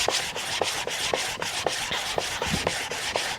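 A planer knife is sharpened by hand, rubbed backwards and forwards on a flat abrasive surface, giving a steady, close, rhythmic rasping scrape with about a dozen even strokes and no talking.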